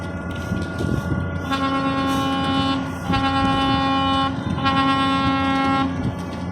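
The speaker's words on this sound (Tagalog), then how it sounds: "Higit ng busina." A loud, steady train horn sounds in three long blasts separated by short gaps, over a constant rumble of a moving train.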